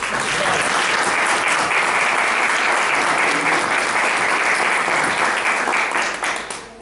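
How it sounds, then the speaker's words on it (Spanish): An audience applauds to welcome psychologist and author Alejandro Parra at a book presentation, steady dense clapping from many hands that holds for several seconds, then begins to thin and fade near the end. "Lo recibimos con un aplauso."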